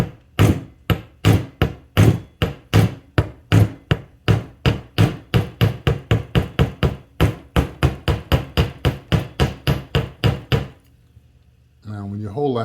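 Repeated hammer strikes on a metal earring being shaped into a design, about thirty crisp, evenly spaced blows close by, followed by a pause and then a voice speaking.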